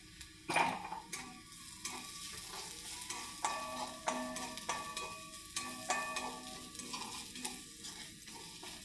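Dry sandge curry being stirred in a pan, spiced with turmeric, masala and chilli, with soft scraping strokes and a steady gentle sizzle repeating through the clip, close and fairly quiet.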